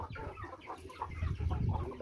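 Pet chickens on a backyard Philippine farm clucking in a steady run of short, close calls over a low rumbling background, with no talk.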